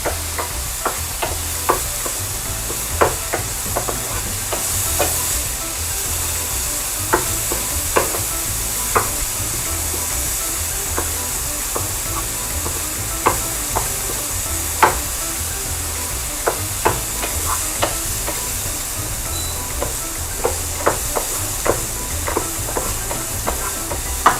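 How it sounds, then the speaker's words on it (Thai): Minced pork stir-fried in a pan with stock instead of oil, giving a steady close sizzle and hiss broken by frequent light scraping and clacking of a utensil against the pan. "รวนหมูให้สุก"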